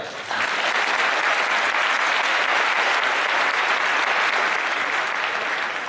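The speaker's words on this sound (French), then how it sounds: "Vous pouvez l'applaudir." Audience at a French financial debate bursts into sustained, even applause, a loud wash of many hands clapping together that holds steady throughout.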